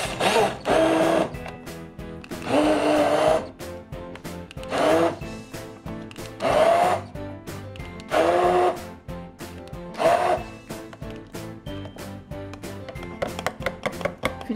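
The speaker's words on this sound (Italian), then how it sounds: "Siamo pronti con il nostro frullatore ad immersione." An immersion blender whirs through pumpkin risotto in repeated bursts of about a second each, loud and close, with short pauses between pulses and faint clatter at the end.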